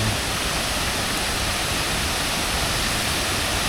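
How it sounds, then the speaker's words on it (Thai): The Khun Korn waterfall in Thailand, a tall waterfall, roars as a dense, constant wash of rushing water, loud and unbroken from start to finish. "ตอนนี้เราก็มาถึงน้ำตกแล้วนะครับ"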